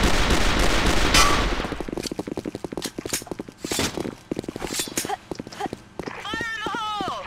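Rapid bursts of gunfire from an online shooter game clan war match, loud and close, with sharp repeated shots and a rattle of fast fire partway through; a voice talks over the action.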